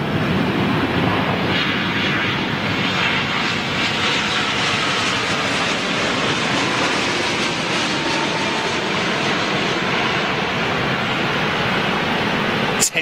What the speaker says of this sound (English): Gonna get this Asiana 380 going out.